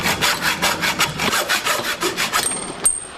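A hacksaw cuts through a plastic guide shield for a wood router, fixed in a vise, with about a dozen steady, rhythmic rasping strokes close by. The sawing stops near the end, followed by a short metallic clink.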